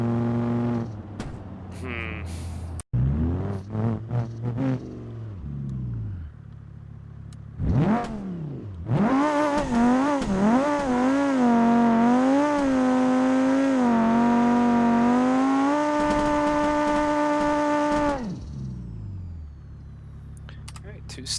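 The Blue BX project car in BeamNG.drive revs hard on a test pass, with several short bursts, then a long loud pull through climbing gears and a steady high drone that cuts off; a voice talks in the opening.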